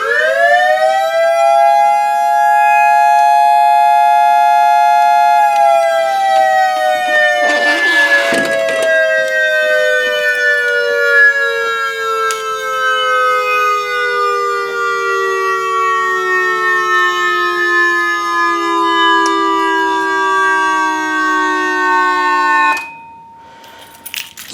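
A Whelen electronic siren speaker winds down in one long, steady, loud tone, its pitch gliding slowly lower for over twenty seconds before cutting off, with a brief rattle partway through.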